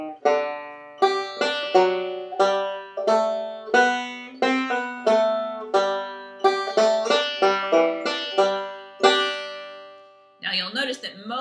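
Guitar playing a beginner-level phrase of Red River Valley: a steady run of plucked single notes and chords, each ringing and decaying, played clearly up close before a brief burst of noise at the end.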